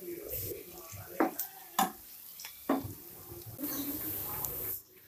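Chopped onions fry in a pan for chicken Manchurian, a soft sizzle broken by sharp stirring scrapes and taps, then a brief burst of louder hissing before it cuts off.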